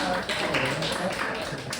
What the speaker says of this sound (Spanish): aplauso para Ángel